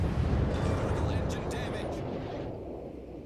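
Naval gunfire and explosions in a warship video game boom out as a heavy, rumbling blast that slowly fades as an enemy destroyer is sunk, loud at first and dying away over a few seconds.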